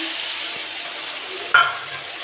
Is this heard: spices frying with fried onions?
yes